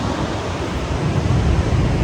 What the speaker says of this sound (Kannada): ಕೇಳಿಸ್ತಾ ಇದೆ ಅಂದ್ಕೊಂಡಿದ್ದೀನಿ ನಿಮಗೆ ನೀರಿನ ಸದ್ದು